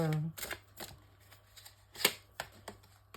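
Tarot cards being shuffled, a series of crisp riffling bursts in a quiet room, with someone speaking briefly at the start.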